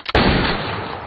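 A single loud gunshot rings out in a John Wick movie duel fought at ten meters, a sharp crack followed by a long fading echo.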